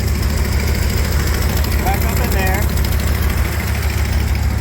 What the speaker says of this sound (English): So, it's running. It does have an exhaust leak.